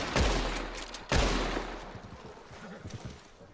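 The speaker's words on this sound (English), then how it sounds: "They're shooting at us." Two heavy gunshots in Red Dead Redemption 2 during a multiplayer battle in Valentine, each a loud booming crack with a long rolling echo, about a second apart, fading into quiet ambience.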